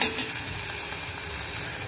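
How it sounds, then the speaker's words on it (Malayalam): Crushed onions stirred in a hot pan for a ginger curry, with a steady bright sizzle and soft scraping stir strokes throughout, close and continuous, no voices. "ഉള്ളി ചതച്ച് വെച്ച ഉള്ളി ഉണ്ടല്ലോ അത് ഒന്നിട്ട് നന്നായിട്ടൊന്ന് ഇളക്കുക"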